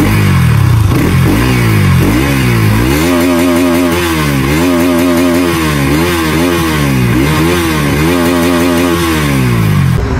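A loud, close Pulsar NS 200 motorcycle engine with its stock exhaust revs up and down repeatedly, its throaty roar rising and falling in pitch without pause.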